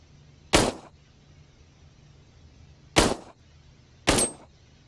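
An M9 pistol fires three sharp, loud shots at a steel target on a shooting range, spaced unevenly with quiet gaps between them and no talking.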